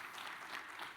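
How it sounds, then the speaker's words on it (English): A steady wash of crowd applause honors Dr. Amita Bro at a university awards ceremony. The clapping is soft and even and runs through the entire brief moment. "give her a round of applause"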